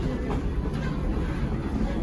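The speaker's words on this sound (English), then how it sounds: "until they got their tourist train operating, which you see riding here today" The Aspen Crossing tourist train rolls along the railway with a dense, steady low rumble and rattle from the cars, heard from on board or nearby with no clear voices.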